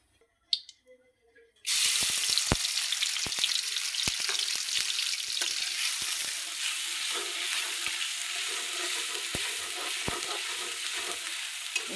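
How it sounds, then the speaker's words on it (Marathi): Pawta beans hit hot oil with a sudden loud sizzle after a few quiet clicks, then fry steadily with crackles and stirring sounds. "मस्त तेलात असं भाजायचं बरं का."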